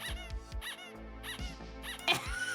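Plastic squeaky pool toy squeezed over and over in a quick rhythm, close, bright squeaks with puffs of air, the last burst sharper and higher.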